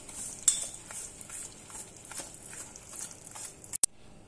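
Spoon scrapes and clinks softly against a bowl, stirring curd and oil into an eggless chocolate cake batter, with light irregular taps and one sharper knock near the end.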